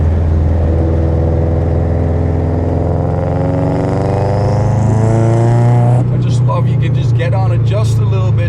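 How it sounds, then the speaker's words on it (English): Turbocharger on a 500 hp 2008 Subaru WRX spooling up under acceleration, a loud rising whine over the droning engine, close and continuous, with talking over the last couple of seconds. "you hear that turbocharger just start to spool"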